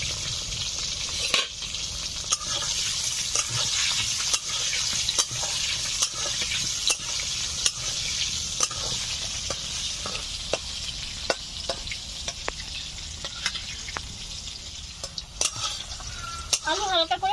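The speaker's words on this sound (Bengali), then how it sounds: "আলুগুলোকে হালকা করে একটু ভেজে নিচ্ছি।" Potato pieces fry in hot oil with a pinch of turmeric and salt, giving a continuous loud sizzle while a utensil stirs and scrapes, with sharp clinks against the pan throughout.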